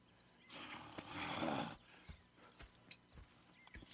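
A horse snorts and whinnies, followed by scattered hoof thuds and shuffling, moderately quiet against a faint background ambience.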